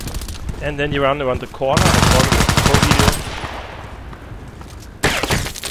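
Rapid automatic gunfire in the Contract Wars online shooter, bursts of loud machine-gun fire mixed with speech, then a fading tail and another short burst near the end.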